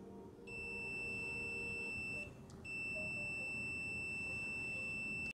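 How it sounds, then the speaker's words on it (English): A multimeter in continuity mode, testing a capacitor on an air conditioner's fan circuit board, gives a steady high-pitched electronic beep continuously, breaking off briefly once before resuming, over a low background hum. "It is continuously making the beep sound in continuity mode."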